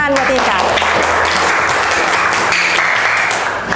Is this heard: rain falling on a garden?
no